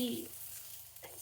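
Sausages browning in a frying pan for a casserole, a soft continuous sizzle with a brief voice fragment at the start.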